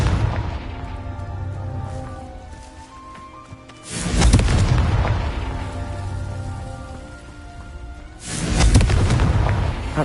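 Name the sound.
explosion from the Confringo spell, Hogwarts video game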